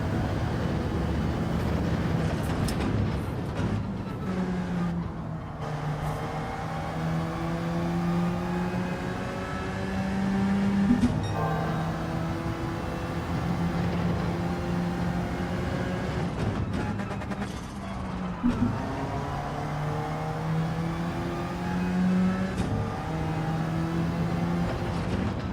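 A car engine in a racing video game time trial revs up repeatedly, its tone climbing through each gear with brief dips between shifts, a steady whining drone heard on its own.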